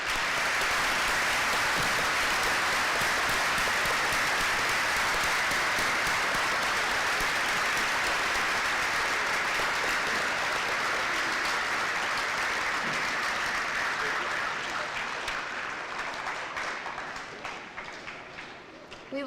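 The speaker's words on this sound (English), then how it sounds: "Please share your applause in honor of our veterans and those currently serving." Sustained audience applause fills a school assembly honoring veterans and those currently serving, a dense, even wash of clapping that holds steady for most of its length before tapering off near the end.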